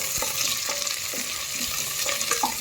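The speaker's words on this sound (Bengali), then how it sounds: "এরপর একটু পেঁয়াজটা আমি ভুনে নেব" Chopped onions frying in hot oil with whole spices such as cardamom, peppercorns, cinnamon, cumin and a bay leaf, a loud continuous close sizzle with light spatula stirring throughout.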